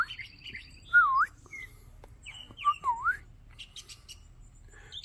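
Birds on a day in North Georgia give a few clear whistled chirps and tweets, moderately close, over faint low background noise with no talking.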